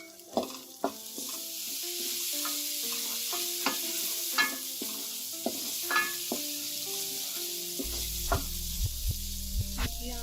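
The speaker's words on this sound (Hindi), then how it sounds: "इसको थोड़ा सा करेंगे फ्राई, ताकि ये जो स्मेल है वो पकने लगे" Potato and spinach curry frying in a pan with a continuous sizzle, broken by repeated clinks and scrapes of a spoon stirring, close and fairly loud, with no talking.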